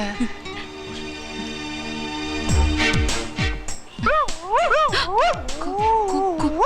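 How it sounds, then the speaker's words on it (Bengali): Several dogs bark sharply, then a pregnant dog gives long, rising and falling whining yelps, close and loud, with voices mixed in. "ওটা তো প্রেগনেন্ট কুকুর মানে প্রেগনেন্ট কুকুর তাই ওভাবে ডাকছে"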